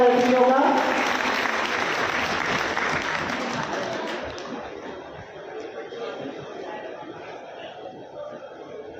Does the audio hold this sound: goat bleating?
no